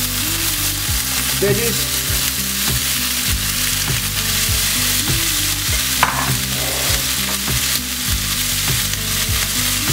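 Garlic and vegetables fry in a hot pan for honey garlic chicken, a loud, steady sizzle broken by repeated stirring scrapes, with a brief spoken word over it.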